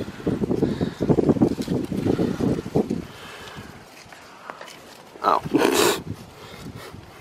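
Gusty wind rumbles across a microphone outdoors at a cemetery in Cumberland, Rhode Island, loud for the first three seconds, then dropping to a quieter lull before brief bursts of brighter noise return.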